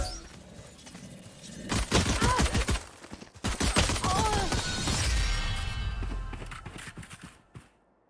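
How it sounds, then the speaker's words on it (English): A swarm grenade goes off in the Valorant video game, bursting into a loud flurry of rapid popping blasts and debris clatter that swells, then tapers into a lingering rumble, heard alone without talking. "Placing swarm grenade. Swarm grenade out."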